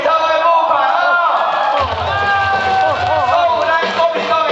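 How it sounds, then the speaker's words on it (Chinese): A crowd at a Kuomintang campaign rally in a hall in Xinying, Tainan, roars and cheers, with loud amplified shouting from a voice on the microphone riding over the steady crowd noise. "给我们素梅姐一个热烈的掌声，好不好？"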